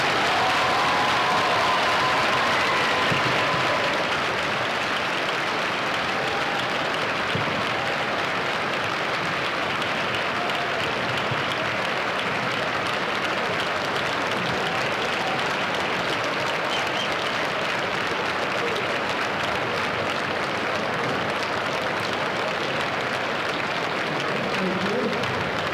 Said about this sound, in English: Let's give these men and women a nice round of applause